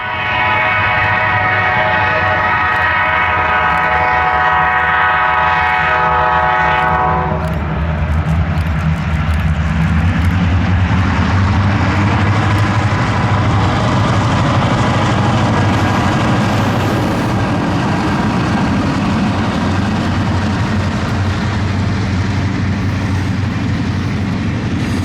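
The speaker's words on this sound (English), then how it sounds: "Here we see KCS-1 passing by the crossbucks that guard Hatton Lane in Hatton" Kansas City Southern KCS-1, led by F units, roars past the crossbucks at Hatton Lane in Hatton, Arkansas. A sustained horn opens the pass, then a loud, continuous close-up rumble of engines and rolling cars fills the rest.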